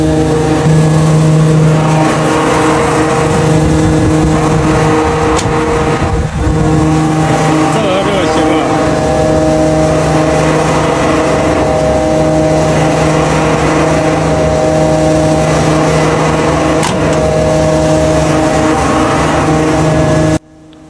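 A 130 kW electric motor on a building site starts up and runs with a steady, loud, continuous hum and drone that holds for the whole stretch, with a few faint knocks along the way.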